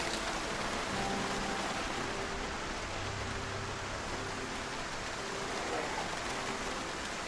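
Rain pattering on cars in Project Zomboid fills every moment with a loud, unbroken wash of hiss and splatter, with faint low game tones humming beneath.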